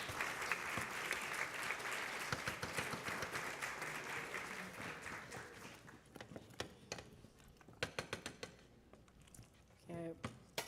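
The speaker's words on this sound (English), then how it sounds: "Give her a round of applause," An audience at a child hunger event breaks into dense applause for several seconds, then thins to scattered individual claps, with voices talking over the tail.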